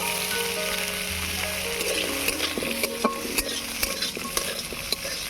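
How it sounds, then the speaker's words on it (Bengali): Cashews and raisins frying in hot ghee in a pan sizzle steadily, with a spoon stirring and scraping in small repeated clicks and knocks, close and clear with no talking. "এবারে কাজু কিশমিশটা ভেজে নেব তার জন্য ঘি দিয়ে দিয়েছি"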